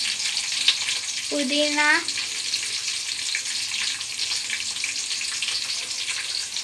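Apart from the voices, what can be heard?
onions and chillies frying in pan for biryani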